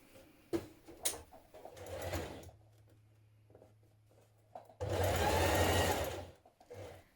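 A sewing machine top-stitches a dungaree facing in short bursts, a brief run, a longer steady stretch, then a louder final burst, with fabric handling and small clicks between runs.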